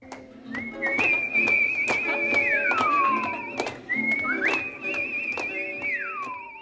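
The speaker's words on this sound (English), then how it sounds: "They're all over the street, addicted whistlers, whistling all over the place." Human whistling at the National Whistlers Convention: a clear, close melodic line with wavering held notes and long downward slides, in two phrases, over light background chatter and taps.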